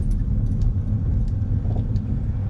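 Steady low rumble of passing cars on a congested two-lane street narrowed by roadside parking, heard from inside a vehicle, continuous and moderately loud with faint jingling on top.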